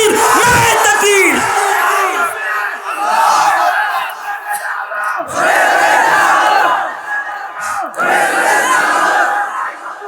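A large crowd at an outdoor Islamic sermon roars a takbir response in unison, a loud massed shout repeated in three swelling waves, close and overpowering.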